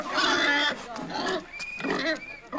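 A pig squeals in several loud, shrill bursts with short gaps between them, close by, while people shout over the commotion.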